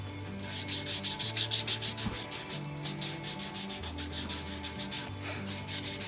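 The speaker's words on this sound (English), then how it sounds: "by using this is 240, sanding away that crack there" 240-grit sandpaper rubs back and forth against a hard 3D-printed part, sanding down a crack in quick, rhythmic strokes, close and steady, with a low hum underneath and no talking.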